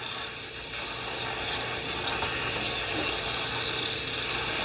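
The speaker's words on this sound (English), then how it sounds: "fill it up with water" Tap water pours steadily into a bowl of foraged dandelions, a continuous loud broadband rush with no pauses.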